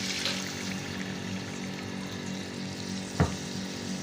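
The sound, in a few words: leftover milk being poured into the masala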